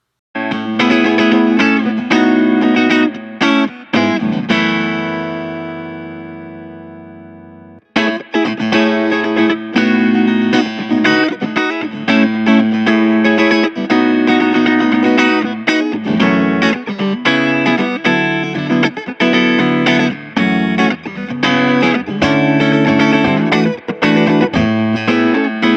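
Distorted electric guitar chords with a wide high-end EQ boost ring out loud with a bright, airy top end, a sustained chord decaying briefly before dense rhythmic strumming resumes.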